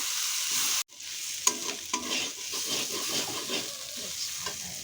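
Soaked rice with spices and chili powder fries in a pan for muri ghonto, a continuous sizzle broken by repeated scraping stir strokes after a brief pause.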